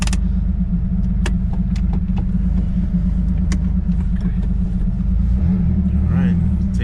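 A 1977 Porsche 911 Turbo Carrera idles while warming up, a steady low engine rumble running close throughout, with faint clicks and a slight rise in engine note near the end.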